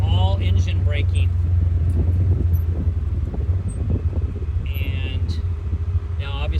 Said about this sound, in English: That's all engine braking.